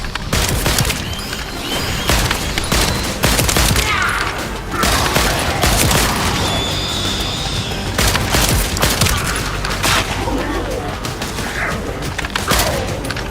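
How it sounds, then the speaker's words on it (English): Dense, sustained gunfire in the PC game The First Descendant, with rapid overlapping shots and booms, loud and continuous throughout without any voices. "That stopped the gunfire."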